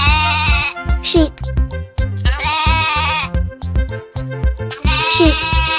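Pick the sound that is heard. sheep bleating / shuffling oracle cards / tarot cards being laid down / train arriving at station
sheep bleating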